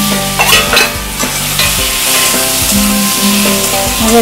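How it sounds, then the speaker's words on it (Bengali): Spices fry in a pan for a sweet-sour mango chutney, a loud close sizzle with rhythmic scraping stirs of a spoon through the mixture, no speech. "দু তিন মিনিট ভাজা ভাজা করে এর মধ্যে আমি হলুদ গুঁড়ো আর গুঁড়ো লঙ্কাটা দিয়ে দেবো"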